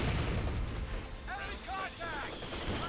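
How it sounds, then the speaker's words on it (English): Mortar and battlefield fire in the strategy game Company of Heroes 2, a dense run of muffled booms and crackling shots with a few brief bursts standing out in the middle. "Mortar fire here"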